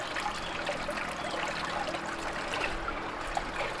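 Water runs steadily down a tilted sluice used to wash debris from crushed flash memory chips, a soft continuous trickle and splash heard quietly and close, with no voices.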